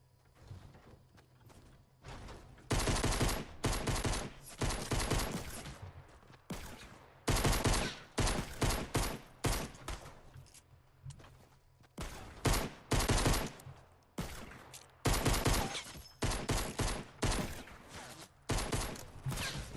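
Rapid gunshots in Fortnite Battle Royale: repeated bursts of sharp automatic fire come in clusters with short gaps, loud and punchy, with no talking over them.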